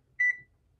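An oven being set to preheat to 425 gives a sharp electronic beep, then a second beep just under a second later. Both are clear and close, with a quiet room behind them.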